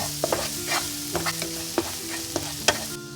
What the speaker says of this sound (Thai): ใส่กระเทียมลงไป ผัดให้กระเทียมสุกนะคะจะมีกลิ่นหอม